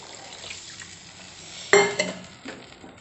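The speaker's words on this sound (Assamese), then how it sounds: "এয়া চাওক এতিয়া পানী দিবলৈ হৈ গ'ল।" Water is poured into a frying pan of frying ginger and garlic paste for an egg, potato and tomato curry: a sudden loud hiss and splash about midway, then a softer, fading sizzle.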